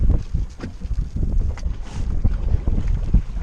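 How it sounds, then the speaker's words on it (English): Strong wind buffets the microphone on open water from a fishing boat, a loud, continuous low rumble with gusty swells and faint splashing in the background, with no voices. "Wind. It's your enemy and your best friend out here."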